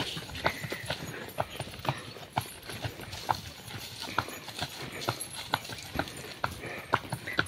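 A working horse in Tayabas, Quezon, clip-clopping along at a steady walking rhythm, each hoof strike sharp and distinct, close and fairly loud against faint outdoor background.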